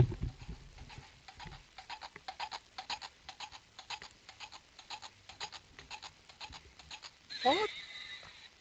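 A fake horse hoofbeat sound effect plays as a steady, even clip-clop of hooves, moderately close, ending in a short whinny-like squeal, with talk around it.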